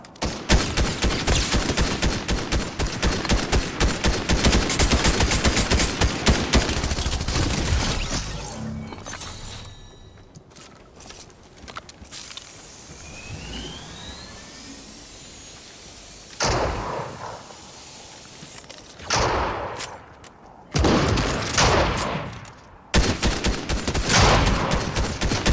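Gunfire in the video game Fortnite, dense loud bursts of rapid shooting at the start, then quieter stretches with whooshing effects, followed by several more heavy volleys and blasts near the end.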